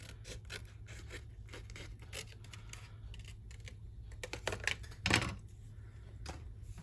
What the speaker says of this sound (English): It's easier for me to cut it.